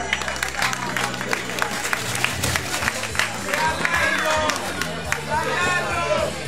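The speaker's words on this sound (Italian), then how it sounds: "un applauso al sindaco" Crowd at an Oktoberfest opening applauds the mayor, a steady wash of clapping mixed with cheering and loud hubbub, while music plays underneath and voices chatter throughout.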